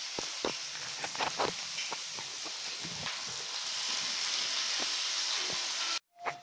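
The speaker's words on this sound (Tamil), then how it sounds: "ஸோ ஆனியன் வந்து ஃப்ரை ஆகிடுச்சு, தவாவில் பண்ணுறேன் அதனால் சீக்கிரமாக ஃப்ரை ஆகிடும்." Chopped small onion frying on a hot tawa with fennel seeds, a steady close sizzle broken by scattered ticks and pops, ending in a sudden drop to near silence with a short faint tap.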